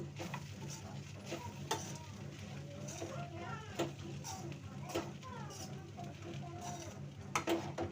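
Brinjal frying in oil in a pan gives a steady, low sizzle with occasional stirring scrapes and clinks, quiet and close, while someone speaks softly over the cooking.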